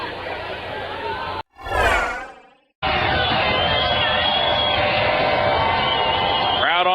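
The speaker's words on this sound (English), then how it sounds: "Crowd on its feet, wanting one more stop here from its defense" Football stadium crowd cheering at a college game, a broad, steady roar of many voices filling the space, broken briefly by a short rising tonal sound before the crowd noise returns at full strength.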